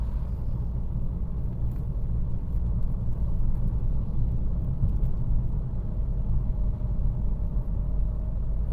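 A Saab 9-5 Aero with a stage 1 tune accelerates on the road, giving a steady, dense engine rumble and road roar that holds loud and even with no speech.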